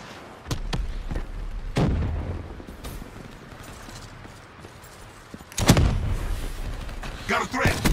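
A grenade explodes amid bursts of gunfire in a military shooter video game, sharp loud blasts hitting near the start, middle and end over a rumbling battle bed, with a player's voice calling out.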